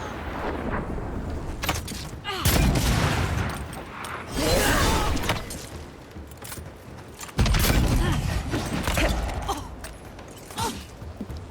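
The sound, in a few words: pressure pistol gunfire in video game Avowed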